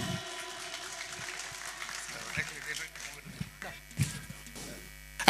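A crowd at a live Bangla rock concert and award event applauds and cheers for a singer, a dense steady wash of clapping under a buzzing PA hum, with a few louder bursts and voices mixed in.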